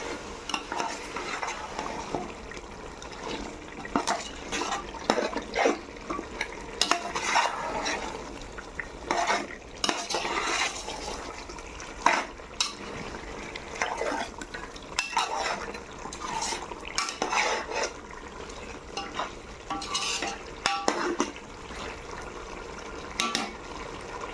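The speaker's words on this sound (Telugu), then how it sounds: "పెరుగు వేస్తున్నా పెరుగు మసాలాకి ముక్కలకి బాగా కలిసేట్టుగా ఇలా కలుపుకుంటున్నా" A spoon stirs curd into mutton pieces and masala in a pot, making repeated scraping, clinking strokes against the metal over a low, steady sizzle.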